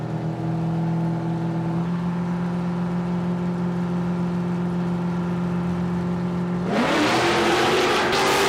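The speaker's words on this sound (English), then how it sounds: "So you watch the big statesman get the old twist up as it leaves the line with that big block Chev in the front." Big block Chevrolet nitro funny car at a drag strip, a sustained steady engine drone that surges abruptly into a loud full-throttle roar as it leaves the line, no talking.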